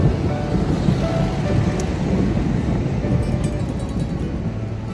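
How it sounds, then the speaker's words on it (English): Steady rain pours outside a restaurant in Rome, a constant dense wash with low rumbling underneath that may be distant thunder, loud and continuous with no talking. "It started raining"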